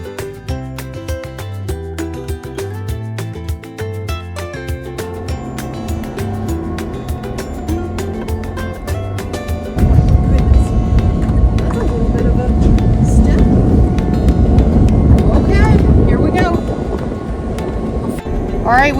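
A train locomotive engine runs with a loud, steady rumble from inside the cab, starting about halfway through after a stretch of music.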